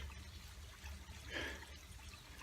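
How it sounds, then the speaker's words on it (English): Water trickling and splashing along a stream swollen after rain beside a hiking trail in Hong Kong, a soft continuous flow with a brief brighter gurgle midway, fairly faint against a low background rumble. "you're greeted with beautiful streams like this"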